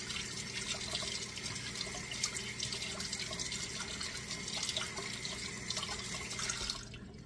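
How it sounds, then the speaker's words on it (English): Tap water runs steadily over electric mixer beaters being cleaned at a kitchen sink, a continuous close splashing hiss that cuts off near the end. "You have to clean these beaters."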